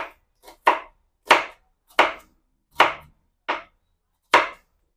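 A knife chops onion finely on a cutting board: about seven crisp, separate knocks at an uneven pace, close and fairly loud, with silence between them and no talking.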